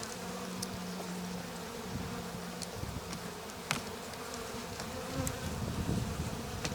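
A dense swarm of honeybees buzzes steadily around an open, healthy hive full of propolis during spring cleaning, close and continuous, with a few brief knocks and sharper swells near the end.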